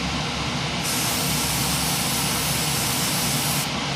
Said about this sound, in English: giving them a light spray